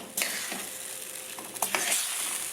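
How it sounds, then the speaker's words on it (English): Ground beef with added water simmers and sizzles in a pan on the stove, a steady close hiss broken by a few brief scrapes and clatters of stirring, with no voices. "The water's gonna help it to mix in with the beef and give it some great flavoring. And I'm just gonna let that saute."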